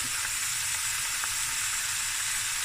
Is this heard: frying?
yes